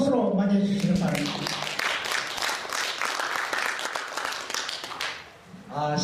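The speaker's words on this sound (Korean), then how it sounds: "그럼 마지막 큰 박수로 맞이해 주시기 바랍니다" Audience applause at a Korean filial-piety instructor selection review event, a dense wash of many hands clapping that fills the room for several seconds, with voices present at the start and end.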